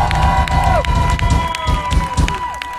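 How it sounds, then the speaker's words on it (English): Concert crowd cheering for a band member named Mikey at a rock show, a broad roar of applause and shouts with sustained tones over it, loud and continuous. "one massive cheer for Mikey!"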